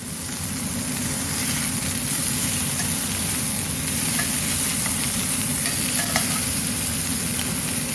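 Chicken browning in a skillet for a creamy Parmesan chicken dinner, giving a steady, loud, even sizzle and frying hiss throughout with no talking.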